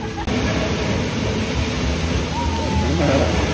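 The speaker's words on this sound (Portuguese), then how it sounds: "Junta-se várias pessoas ao mesmo tempo aqui e faz a água mega pular aqui na frente" Water jets leap and splash at the Moana attraction at Epcot, a constant broad rushing spray with loud crowd noise and a short whistle-like tone mixed in.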